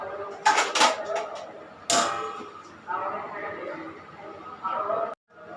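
A lid is set down on a pot of chicken biryani in a home kitchen, giving a few sharp metallic clanks close by, with someone talking over and between them.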